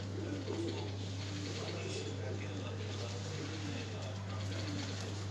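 A captured pigeon being released outdoors, its soft cooing heard faintly under people talking, with a steady low hum running throughout.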